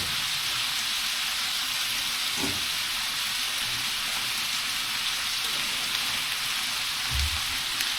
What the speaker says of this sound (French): dans cette poêle là, je vais rajouter